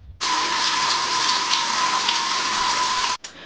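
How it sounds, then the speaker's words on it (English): Steady broadband hiss of a running shower in a home bathroom, holding constant for about three seconds before cutting off abruptly near the end, with no voices. "I then shower."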